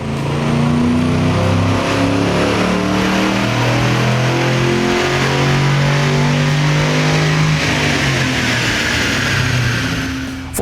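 A stock 2007 Ford Mustang GT with a 4.6L V8, BBK axle-back exhaust and MSD coil packs, revs hard on a dyno, a loud steady engine roar rising in pitch and holding for about ten seconds with no talking.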